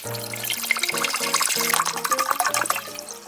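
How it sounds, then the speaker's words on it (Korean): Two liters of water poured into a pot for a kelp, dried shiitake and radish broth, a steady splashing gush with gentle bubbling, close and moderately loud, over light background music and no talking. "물 2리터를 부어주세요"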